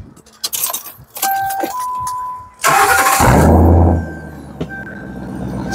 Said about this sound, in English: can I bless the people with some sound of that Flowmaster?